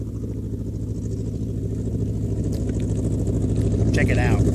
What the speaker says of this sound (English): It's a 6-cylinder pickup running on 4 cylinders.